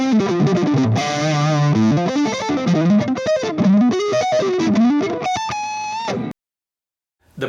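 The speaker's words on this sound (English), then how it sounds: "we can get this really nice 80s high gain type shred sound to it." Heavily distorted high-gain electric guitar in an 80s-style shred tone through a Torpedo Live plays a fast shredding riff, then cuts off into silence before a final note.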